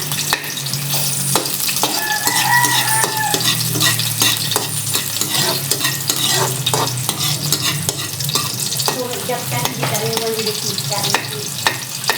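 Sliced onion and garlic sizzle steadily in hot cooking oil for a Filipino sautéed vegetable dish, with continuous close frying hiss, occasional stirring clinks and scrapes, and a faint distant background voice.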